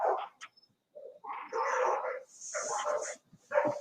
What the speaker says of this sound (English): Whoa, this dog is going crazy over here.